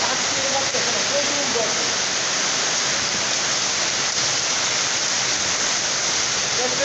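A hailstorm in Gazipur with heavy rain and plenty of flowing water: a dense, steady roar of pouring water and rain hitting surfaces, loud and continuous throughout, with no clear breaks.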